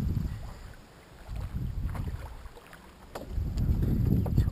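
Someone climbs into a canoe on open water, with faint hull knocks and water sloshing against the boat under breezy wind noise, the sound quiet and swelling toward the end.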